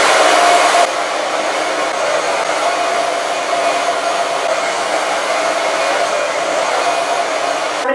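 Hair dryer blowing on hair while it is styled from wet to dry, a steady loud close-up roar of air that is slightly stronger in the first second, with no talking.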